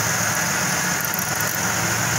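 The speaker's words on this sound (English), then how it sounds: "You run the engine. Let it run a little bit." A Chevy Impala V6 engine idling after cooling system work, a steady close rumble with a constant mechanical hum and no change in pace, no voices.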